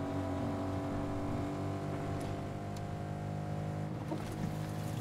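Car driving in Fortnite, a continuous loud engine drone with a steady hum and small shifts in pitch, close up and with no talking.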